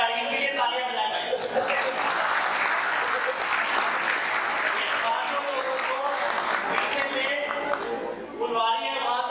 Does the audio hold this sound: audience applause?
yes